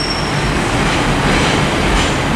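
A Class 142 diesel train running empty as a stock move at Manchester Piccadilly, heard as a steady, loud, close rolling rumble and wheel noise with no breaks or talking.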